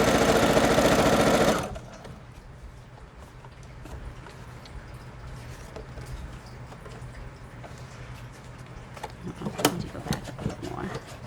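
A sewing machine stitching pockets: a loud burst of running at first, then quieter, intermittent mechanical clicking and stitching with light knocks, under a person talking.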